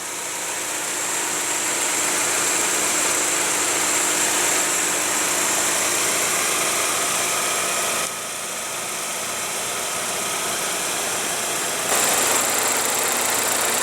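A 2015 GMC Terrain's 2.4-liter inline four-cylinder idles with a steady, close hum that shifts slightly twice, with no talk.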